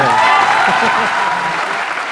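A studio audience at a comedy talk show breaks into dense, steady applause close by, continuous for the whole stretch, with a few voices mixed into the clapping.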